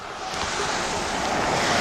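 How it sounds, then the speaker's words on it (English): Heavy rain pours down outdoors at an auto salvage yard, a dense, steady hiss that grows slightly louder and fills the whole moment. "It's pouring raining out here."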